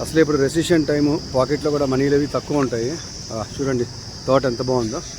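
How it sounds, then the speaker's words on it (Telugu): Small insects chirp with a loud, steady high-pitched drone in a garden beside the highway near Gannavaram. The chirping runs continuously under someone talking. "ఏవో చిన్న చిన్న పురుగులు గట్టి గట్టి సౌండ్లు చేస్తాయి."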